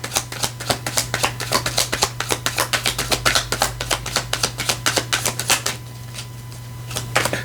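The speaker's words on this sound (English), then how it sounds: "I'm doing a horrible job with the shuffling." Tarot cards being shuffled by hand, a rapid run of crisp riffling flicks close up that stops abruptly near the end, leaving a quiet steady hum beneath.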